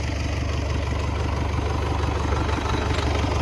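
An MTZ tractor diesel engine idles steadily up close after a repair out in a field, a continuous low rumbling drone with even mechanical knocking.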